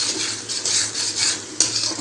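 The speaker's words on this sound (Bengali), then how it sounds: "করে ভালোভাবে এটাকে কষাতে হবে" Chilli powder and salt being stirred and sautéed in a pan for pomfret curry, giving a steady scraping, frying hiss with a sharp utensil knock near the end, close and moderately loud.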